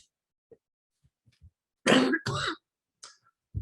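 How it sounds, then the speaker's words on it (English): A person coughs and clears their throat in a quiet room: a few faint throat sounds lead into two loud, harsh coughs, then a softer clearing and another brief cough. "I'd like to apologize for all the coughing."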